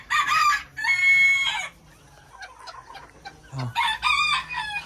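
A Mini Garnisé bantam rooster crows loudly in its pen, two long strained calls at the start and another at the end, with softer clucks and farmyard sounds between them.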